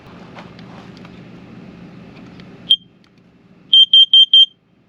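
A carbon monoxide detector in an RV is tested, giving one sharp beep and then a run of four loud, evenly spaced piercing alarm chirps close by, after a quieter stretch of faint handling noise.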